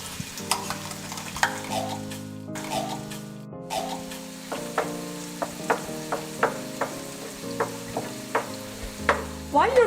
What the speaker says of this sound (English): And now I'm going to be adding the tomato paste to the oil.